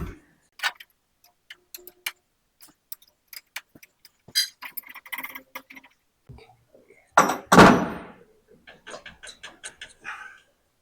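Metal tapping on a 1945 International K3 tractor transmission to work it loose: scattered, irregular sharp knocks and thunks, close by, with a louder cluster of strikes partway through and quiet gaps between.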